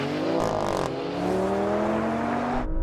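A Porsche and an Alfa Romeo Stelvio launch off the line together in a drag race, engines roaring loudly and rising steadily in pitch as they accelerate hard, continuous and close throughout.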